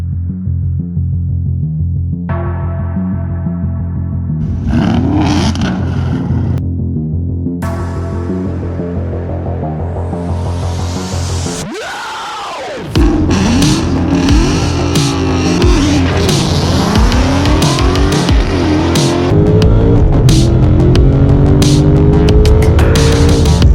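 A 1973 Chevy Nova with an LS engine swap and a Magnaflow 15896 exhaust idles with a deep throbbing burble, goes briefly quiet, then restarts and revs loudly and repeatedly, close up with no talking.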